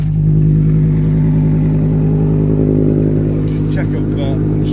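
A Massey Ferguson tractor with the PTO engaged while filling a tanker, a loud steady low engine drone with a brief squeak near the end and a voice over it.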